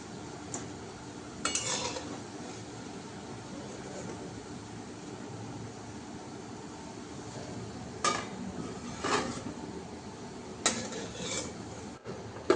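Crispy vegetarian jute leaf fritters are lifted from a frying pan, giving a few scattered clinks and scrapes of a utensil over a faint, low sizzle in a quiet kitchen.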